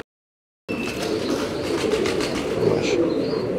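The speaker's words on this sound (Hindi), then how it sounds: "जो आप देख रहे हैं स्क्रीन पे ये तकरीबन कोई 22 साल कबूतर है" After a brief silence, an elderly pigeon, about 22 years old, gives soft coos and fluttering wingbeats close by over a steady background hum.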